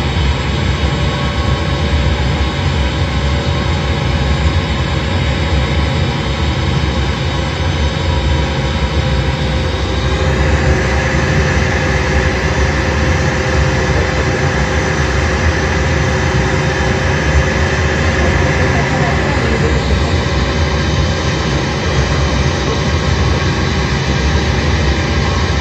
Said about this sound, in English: The airplane is flying on autopilot. Just circling the airport